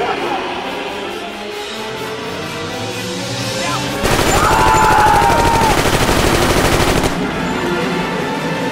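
Thompson submachine gun bursting into rapid automatic fire in a Prohibition-era mob attack, a dense loud volley lasting about three seconds over a continuous narrating voice and background music.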